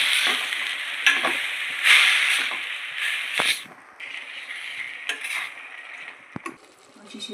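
Shepu (dill) greens are stirred in a pan, a soft continuous sizzle with scraping strokes of a spoon and occasional clinks against the metal, close and alone.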